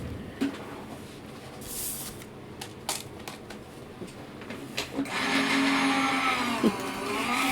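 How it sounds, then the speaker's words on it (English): An electric die-cutting machine cuts a scalloped frame for a honey bee spinner card. Soft handling clicks come first, then a steady, fairly loud motor whir with a low hum runs through the last couple of seconds. "We're going to go ahead and we're going to die cut that."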